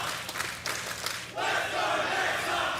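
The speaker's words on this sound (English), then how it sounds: "crowd's back on OG here" An esports crowd at a CS:GO match between OG and Entropiq roars and cheers, swelling from a murmur into a loud, sustained wall of shouting.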